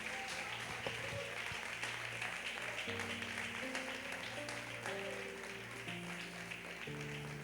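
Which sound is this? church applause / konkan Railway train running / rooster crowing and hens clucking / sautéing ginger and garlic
church applause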